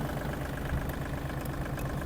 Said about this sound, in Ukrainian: Це мінімальна швидкість трактора.